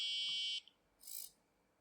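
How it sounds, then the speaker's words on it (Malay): Piezo buzzer on a Micro:bit safety-gate school project giving two short, shrill electronic beeps, the first about half a second long and the second a softer, shorter pulse after a gap, close and alone. "Bunyi buzzer."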